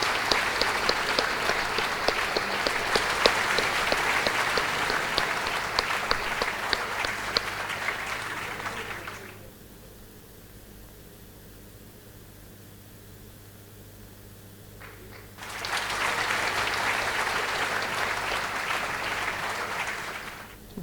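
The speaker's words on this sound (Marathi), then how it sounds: "या सगळ्यांचं एकदा आपण टाळ्या वाजवून अभिनंदन करू" Audience applause at an opening ceremony: loud, dense clapping for about nine seconds breaks off into a quiet pause, then a second strong round of applause starts and runs to the end.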